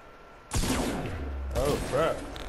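Gunfire in the Fortnite video game, two sharp shots about a second apart followed by lingering in-game noise, while a player talks over the action.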